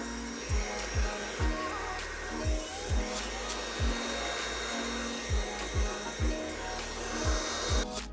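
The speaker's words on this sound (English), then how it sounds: "We're gonna dry the hair to apply the product." A hair dryer blows steadily while drying a client's hair after an undercut fade in a barbershop, its loud continuous whir broken by regular soft thumps as the air shifts against the hair.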